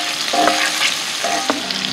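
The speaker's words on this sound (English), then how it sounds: "So I'm going to cook the celery just for a couple of minutes." Chopped celery frying in a hot pan for sofrito, a steady broadband sizzle with a couple of brief stirring scrapes, close and alone without any talk.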